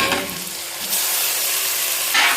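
Tomatoes sizzling in a pan while cooking for chicken pulao, a steady broadband hiss with brief surges as the mixture is stirred, close and fairly soft.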